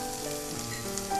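Garlic-ginger paste frying with onions in a pan, a steady close sizzle and crackle running evenly throughout with no talking.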